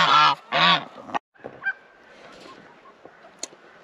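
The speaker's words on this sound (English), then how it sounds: "We decided to go with the Chinese geese." Chinese geese on a homestead honk twice, loud and close, in quick succession, then the farmyard falls quieter with faint scattered bird calls and small noises.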